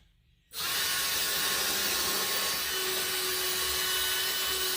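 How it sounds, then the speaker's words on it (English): A power drill starts after a short quiet moment and runs steadily at high speed, loud and close, whirring continuously as it bores pilot holes into wood for a scroll saw project. "So take my drill bit here, and I'm going to cut me 3 pilot holes."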